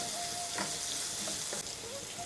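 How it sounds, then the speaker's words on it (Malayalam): Chopped ginger sizzles and fries steadily in a hot pan while being made into dry prawn pickle, a continuous soft crackle with light stirring, close and fairly quiet. "ഇഞ്ചി ചെറുതായിട്ട് കട്ട് ചെയ്ത് ഇഞ്ചിയും കൂടി ഇട്ട് കൊടുക്കുക. അതും ഒന്ന് നല്ലോണം വഴറ്റിയെടുക്കുക"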